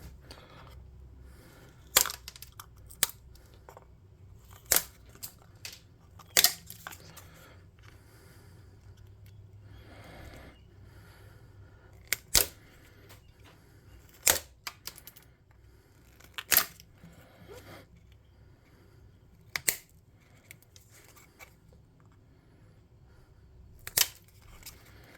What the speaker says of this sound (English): I'm going to get to snipping.